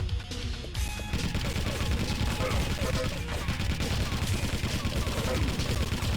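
Sustained rapid video game gunfire, a continuous fusillade of automatic shots held steady and fairly loud throughout with no pauses.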